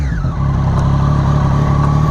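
A 2017 Triumph Daytona motorcycle engine idles close by with a steady, throbbing drone that holds level, after a slight dip in the first moment.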